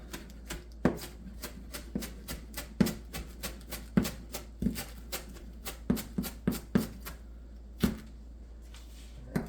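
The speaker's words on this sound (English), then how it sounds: "now I'm going to go ahead and chop up my cilantro" A knife chops cilantro by hand on a cutting board, making close, sharp thuds in an uneven but steady rhythm, about twenty strikes, with no talking.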